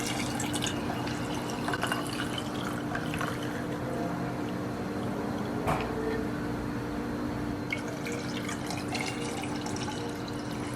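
Spiced tiger nut milk pours from a bottle, a soft continuous liquid stream and faint drips over steady background hum, with no voices.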